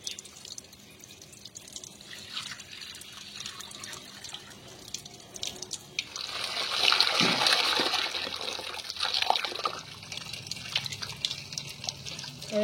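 Water poured over soaked flour dough being washed to draw out the starch, a soft running and splashing stream that swells and then trickles on, fairly quiet and with no talk.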